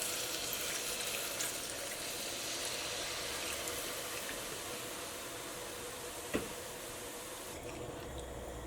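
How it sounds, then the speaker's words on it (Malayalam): Buttermilk thinned with water pours steadily into a vegetable curry over high heat, a continuous watery rush with a faint sizzle throughout and one brief clink near the end. "ഈ മോരും വെള്ളം ഇതിലേക്ക് ചേർക്കാം"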